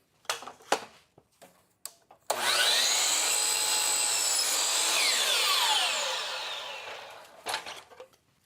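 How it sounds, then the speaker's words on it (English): A saw cuts through a scrap of wood for a Ford Transit van dinette bed frame, a few knocks and handling sounds, then a steady, close whining cut of about four seconds that tapers as the blade slows, followed by more clunks. "Let me cut this on the saw really quick."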